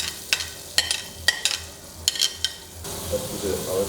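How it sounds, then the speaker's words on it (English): Butter in a fry pan for a lemon butter sauce for potatoes: a few sharp utensil taps against the pan, then a steady close sizzling hiss that swells and carries on alone. "We start with the butter, add it to the fry pan."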